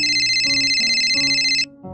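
A phone rings out loud and close in a steady electronic ringtone, a bright repeating pattern over shifting lower tones that cuts off near the end, with no voices.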